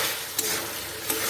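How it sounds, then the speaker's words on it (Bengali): Vegetable curry with a sprinkle of garam masala is stirred in a hot pan, a steady close sizzle filling the clip, with two brief scraping strokes of the spoon. "এবার একটু গরম মশলা ছড়িয়ে জাস্ট ভালো করে নেড়ে নামিয়ে নেব।"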